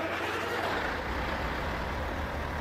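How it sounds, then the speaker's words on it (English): A semi truck's engine starts up and settles into a steady low rumble in American Truck Simulator, a modded engine sound heard alone at moderate volume with no talk. "Let's go ahead and start up this truck."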